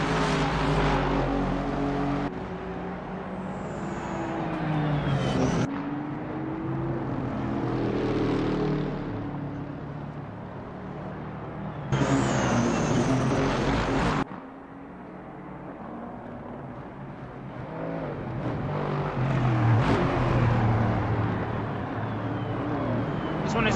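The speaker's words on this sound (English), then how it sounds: "enjoy the sound of HoloLive GT3 cars racing onto the track" GT3 racing car engines in a video game roar and whine past in overlapping waves, rising and falling as cars shift gears on the Sepang track, with no talking.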